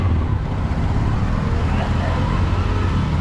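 Road traffic rumbles on a rainy street, a steady low roar of passing vehicles with a wet hiss, moderately loud and continuous.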